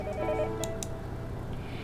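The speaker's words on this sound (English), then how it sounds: "The phone rang noisily downstairs." A telephone ringing downstairs in the visual novel Onikakushi, a short electronic ring heard once at moderate loudness over a steady background of game music.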